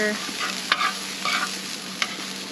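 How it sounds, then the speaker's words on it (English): Caramelizing steaks fry on a Tembo Tusk Skottle griddle with a continuous hiss, punctuated by three sharp utensil scrapes and clicks spaced across the sizzle. "My steaks are looking pretty good here. They're getting nice and caramelized."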